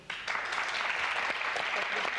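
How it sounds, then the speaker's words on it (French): A studio audience at a French television game show breaks into applause, an abrupt start settling into a dense, even clapping that stays loud throughout, with a voice faintly underneath. "Oh, ben elle s'applaudit, Colette."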